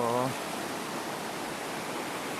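A waterfall pours over large sloping rocks near Ton Hin Lat in Phang Nga. It makes a steady, broad rushing sound after a brief voice at the start.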